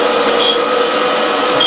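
A 46 grit K grinding wheel runs in a workshop making Dickson-type quick-change tool holders, giving a loud, steady, continuous grinding whine with no breaks and no voices.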